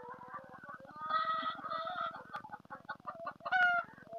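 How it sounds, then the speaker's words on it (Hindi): Hens cluck and murmur inside a coop where they sit to lay eggs, with a mix of soft overlapping clucks and a few sharper calls, fairly faint but clear and without talking. "ये जहाँ पे जो माशाल्लाह मुर्गियाँ बैठ के अंडे देती हैं।"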